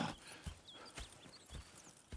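Horses in the video game Red Dead Redemption 2 clop along in a steady walking rhythm, hooves thudding close by with a faint whinny and light ambient noise.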